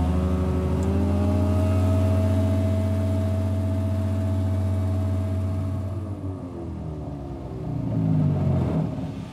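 A motor glider's engine runs at full throttle during a climb, a loud, steady, deep droning hum heard close from the cockpit that dips slightly and swells again near the end.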